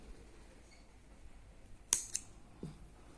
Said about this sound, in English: then cut our yarn